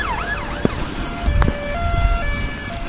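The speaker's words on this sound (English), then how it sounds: "I've got police with sirens" Police sirens wail outside, a rising and falling electronic tone shifting between patterns, moderately close with a low traffic rumble underneath and no talk.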